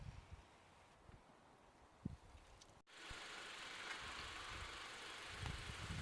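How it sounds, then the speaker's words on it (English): A car engine, treated with Wynn's engine stop leak for gasket leaks, idles with a steady low rumble, preceded by a brief quieter stretch with a few soft knocks and rustles. "the engine sounds smoother and quieter than before"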